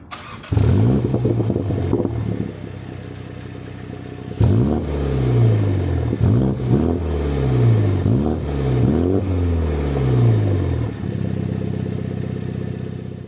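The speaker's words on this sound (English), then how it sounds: "We've got a sportier style exhaust as well, which sounds sportier" A MINI GP3 engine starts and idles with a deep, sporty exhaust burble, then revs repeatedly in quick throaty bursts before settling back to idle.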